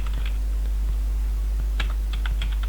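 Computer keyboard typing while writing a PostgreSQL alter table query, with close, irregular bursts of key clicks over a steady low hum.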